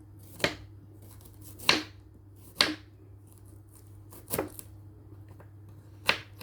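Five sharp knife strikes chopping shallots on a cutting board, spaced irregularly about a second apart, close and fairly quiet over a low steady hum.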